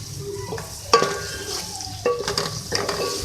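Coriander and turmeric powder are stirred into palak aloo gravy in a pan, giving a steady sizzle with sharp spoon knocks and scrapes against the pan.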